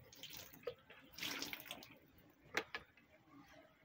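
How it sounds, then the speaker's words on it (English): Water poured by hand over fish fingerlings during fry sorting at day 24, a soft broadband splashing that swells around the middle and ends with two brief sharper splashes, moderately faint and with no talk over it. "Pour them water, calm down babies,"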